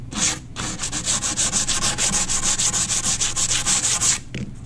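Sandpaper rubbed along the foam edge of a hydrofoil board, a rapid rhythmic series of close, even scratchy strokes with no talk.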